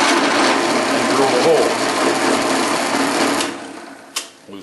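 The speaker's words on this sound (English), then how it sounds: "when I scooted it over to drill a hole in this one" A power drill bores a hole through a plastic rabbit treat cup, a steady loud whir running close and unbroken, then easing off near the end with a short clunk.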